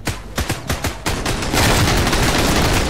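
Gunfire in the survival shooter Sunkenland: a few sharp separate shots first, then a sustained burst of rapid automatic fire that keeps going loud and dense until the end, with no talking.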